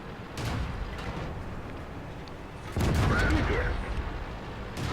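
A few heavy tank cannon blasts from a video game, spaced seconds apart, booming over a constant noisy battle background.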